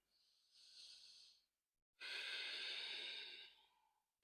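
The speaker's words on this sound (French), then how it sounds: "Respiration par le nez, bien sûr, Ujjayi." Two long breaths drawn and released through the nose in Ujjayi style during a yoga sun salutation, a softer exhale-like stream then a louder, rasping ocean-like breath after a short pause, close and alone.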